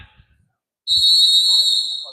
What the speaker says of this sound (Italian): fallo fischiato di mano